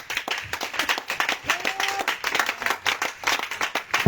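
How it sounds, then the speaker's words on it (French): A church congregation at an evening worship service in Grand-Bassam claps to acclaim Jesus, producing a quick, fairly regular run of handclaps, with a brief tonal voice or instrument note partway through. "Faut acclamer Jésus. On acclame Jésus"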